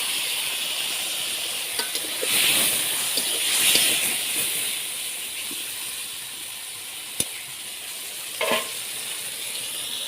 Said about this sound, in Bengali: আলু পটল একসঙ্গে ভালো করে ভেজে নেব